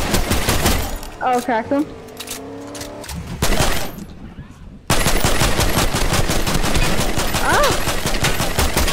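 Assault rifle fire in a video game crackles in dense automatic bursts, broken by a brief pause and then a sustained loud stretch, while players shout over it.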